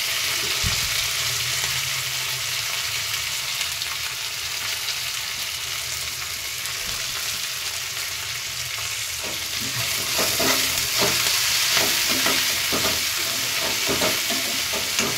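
Fenugreek leaves and spring onions fry in a pan over ginger-garlic paste, a steady close sizzle throughout with scraping stirs growing busier toward the end, no talking.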